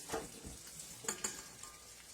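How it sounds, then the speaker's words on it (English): Carrot cake batter stirred in a mixing bowl just before the flour goes in, a few soft scraping and sloshing strokes close by with light clinks, no talking. "And then we're going to mix this one more time before we add in our flour."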